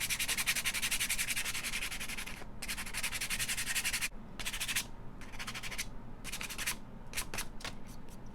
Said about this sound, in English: I'm going to sand the sunflower here though. And it's just 150 grit sandpaper, fine grit.